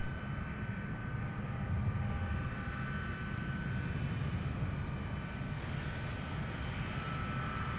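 Delta airliner at MSP airport readying for takeoff, a steady loud engine roar with a high whine holding constant throughout, heard from the ground.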